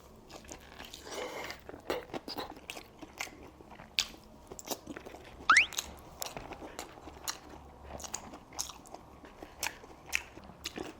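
A man eats a crispy tonkatsu pork cutlet, and close crunchy bites and chewing repeat in an irregular rhythm throughout, with a few louder crunches and no talking.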